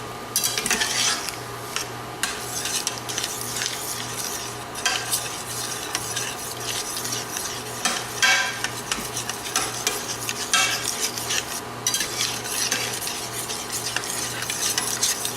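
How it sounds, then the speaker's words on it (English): Beef fat is stirred into simmering tomato sauce, a spoon scraping and clinking against the pot in irregular strokes over a soft bubbling sizzle, close and fairly loud. "So we're going to go ahead and stir around to try and get that fat worked in as it comes up to temperature and starts simmering."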